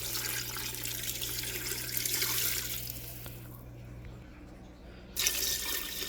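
Liquid pours steadily into a pot while sinigang with chayote is being cooked, a close continuous splashing stream that stops abruptly near the end and briefly resumes, over a low steady hum.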